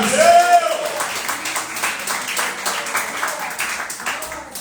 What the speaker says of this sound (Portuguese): agradeço essa linda oportunidade e as palmas ao meu Senhor Jesus.